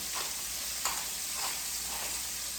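Onions fry in oil in a pan with a steady close sizzle, while a few soft stirring scrapes pass through the hiss at intervals.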